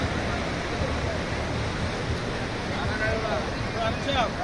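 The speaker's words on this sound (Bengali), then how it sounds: "এই যে দেখুন সাগরের গর্জন।" Ocean waves roar on the beach at Cox's Bazar at night, a dense continuous rushing wash filling the air, with a voice faintly present over it.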